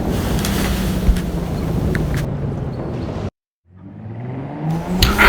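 A Nissan R34 Skyline drives on the road with a steady engine drone and wind rush. The sound cuts out briefly partway through, then the engine swells back in and builds to a louder passage near the end.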